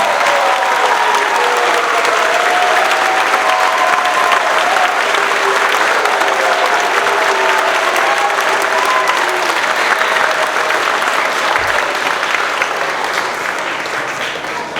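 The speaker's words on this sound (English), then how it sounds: "Please join me in one final round of applause for our 6th grade." Loud sustained applause from an audience at a sixth grade recognition ceremony, a dense continuous wash of clapping that holds steady for the whole stretch and eases slightly near the end, with faint cheering mixed in.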